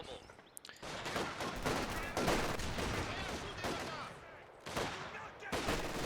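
.50 cal machine gun fire in Company of Heroes 2 comes as loud, sustained rattling bursts with short gaps between them, layered with other battlefield gunfire.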